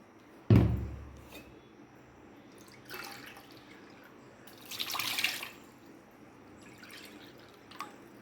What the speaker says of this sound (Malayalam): ആദ്യം വെള്ളം ഒഴിക്കാം